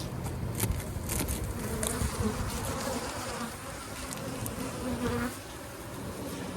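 Honeybees at colonies being equalized buzz in a dense, steady drone close by, with occasional louder passes over a constant hum.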